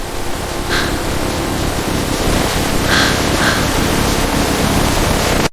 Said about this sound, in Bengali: প্রচন্ড বৃষ্টি শুরু হলো।